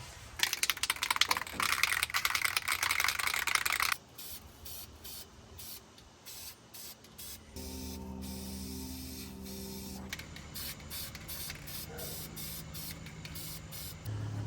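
A loud hissing burst from a spray paint can painting a truck's cab floor lasts a few seconds, then gives way to quieter tapping and clicking with a steady hum.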